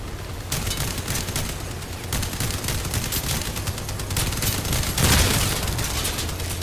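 Machine gun build in the vehicle combat game Crossout firing sustained automatic bursts, a dense, continuous rattle of shots mixed with explosions and engine rumble, loud and steady throughout.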